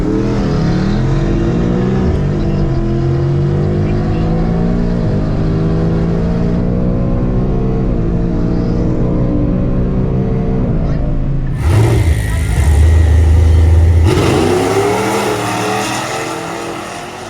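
A 2022 Ford Mustang GT with a supercharger on a 120 pulley launches down a drag strip, its loud engine climbing through repeated upshifts with a supercharger whine, then lifting off and fading as the run ends.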